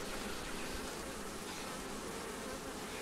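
Honeybees hum in a dense, continuous buzz from an opened hive, a steady wash of many wings heard up close at low volume with no voices.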